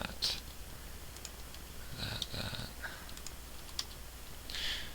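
Typing on a computer keyboard, a steady patter of soft key clicks with a few louder taps, close and quiet against faint room noise, no voices.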